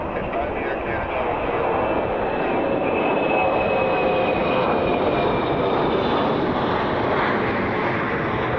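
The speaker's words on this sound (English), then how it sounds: "Delta Flight 87, A330 inbound from Frankfurt" Delta Airbus A330 inbound from Frankfurt, its engines producing a continuous, fairly loud rushing roar with a faint high whine, steady from start to finish.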